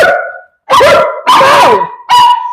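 Close, loud dog barking: a few sharp, yelping barks in rapid succession with brief pauses between them.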